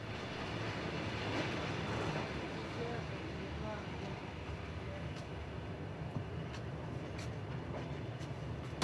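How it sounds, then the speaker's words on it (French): A Trans-Siberian train pulls out of Irkutsk station heading east toward Ulan-Ude, a steady low rumble and rolling noise heard from a distance, with a voice speaking quietly over it. "Un train part vers l'est, vers Ulan-Ude."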